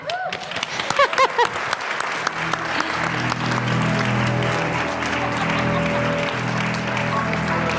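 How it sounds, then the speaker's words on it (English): Clapping breaks out as new members join a church congregation, starting over a few voices and then settling into steady applause while sustained organ or keyboard tones enter underneath. "You can clap."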